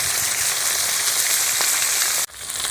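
Khoira fish frying in hot mustard oil, a steady broad sizzle that holds loud and close, then dips sharply for an instant near the end before resuming.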